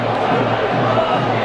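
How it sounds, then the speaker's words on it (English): Halifax rugby league supporters cheer during a home match against Featherstone, a steady, dense crowd roar that holds at an even level for the whole moment without distinct voices standing out. "But Halifax fans are cheering."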